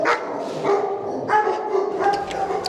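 Several dogs bark repeatedly in a loud, echoing animal shelter kennel room built for larger dogs, the yips and bow-wows overlapping close by.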